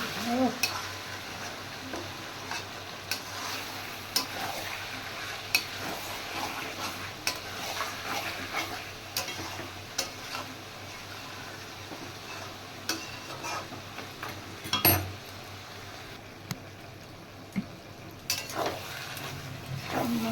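Mutton masala is stir-fried in a pan during the kosha stage, a low sizzle broken by repeated scrapes and clinks of a spoon against the pan, with a louder knock midway.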